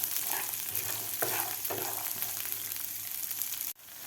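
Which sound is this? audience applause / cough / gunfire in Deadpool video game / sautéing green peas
sautéing green peas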